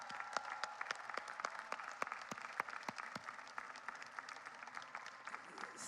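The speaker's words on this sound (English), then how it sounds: "So if you could stand up and extend gratitude by applauding these folks," Graduation commencement audience applauding faculty and staff, a steady wash of many hands clapping in a large hall, sustained and fairly distant with no talk over it.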